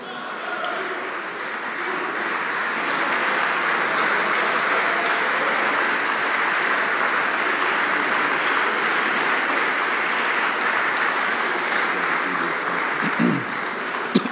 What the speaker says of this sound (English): Let's give Student Minister Wesley Muhammad another warm round of applause